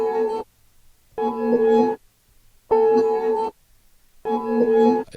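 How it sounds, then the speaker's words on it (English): A chopped sample of a self-made gazelle texture, heard dry without any plugins, sounds as four sustained tonal bursts. Each lasts under a second and is separated by short silent gaps, with a steady buzzy harmonic tone. "This is also from that same gazelle texture that I created"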